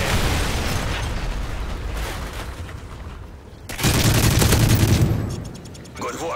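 A grenade explosion in a video game bursts loudly and close amid rattling gunfire and in-game battle noise, with a heavy boom in the middle followed by fading debris.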